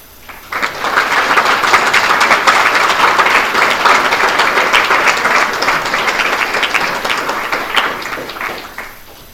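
Audience clapping fills a room at an Eagle Scout Court of Honor, a dense steady round of applause that starts abruptly, holds for about eight seconds and fades at the end, with no voices over it.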